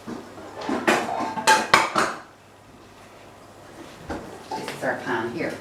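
A frying pan is handled and knocked against a hob ring, giving a few loud metallic clanks and scrapes in quick succession, then a quiet pause and more softer clattering, with a person talking over part of it.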